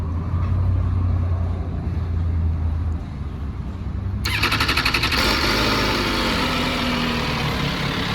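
A 2022 MV Agusta F3 800RR sportbike engine runs steadily at idle nearby, a continuous low drone that gains a brighter, rattling mechanical edge partway through.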